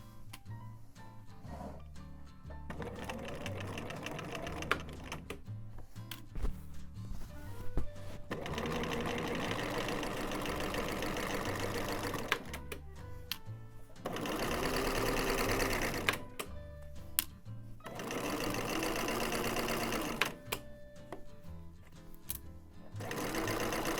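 A sewing machine stitches a wide zigzag (width 3, length 2.5) along the edge of two fabric layers for a pair of briefs. It runs in long, steady, rapid stretches broken by short pauses.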